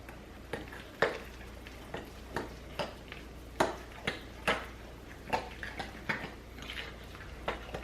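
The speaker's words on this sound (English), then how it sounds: "we're just gonna stir this and get everything nice combined to make the batter" Banana bread batter is stirred in a bowl, making a steady run of soft scraping and tapping strokes against the bowl's sides in an irregular rhythm, close and moderately loud.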